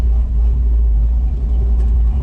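A car fitted with a 4500 stall torque converter revs in drive on the street, a loud, close, deep rumbling engine roar held steady throughout with no talking.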